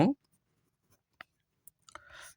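A pen writes on paper during a maths lesson, with short scratchy strokes that are faint and widely spaced, followed by a longer stroke. A voice speaks briefly at the start.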